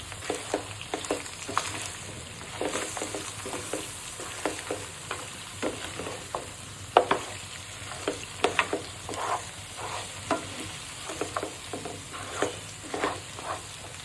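Beef fry with Kashmiri chili powder being stirred in a pan, a sizzle under repeated scraping strokes of a spoon, rhythmic and close, no talking.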